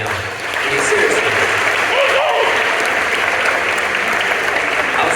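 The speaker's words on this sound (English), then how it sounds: "give yourself a round of applause right now" Audience at a 2023 SSDM Thon gathering breaks into loud, sustained applause after a short quiet start, with some cheering voices mixed in.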